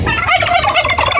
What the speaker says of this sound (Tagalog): Huhuli tayo ng isang pabo.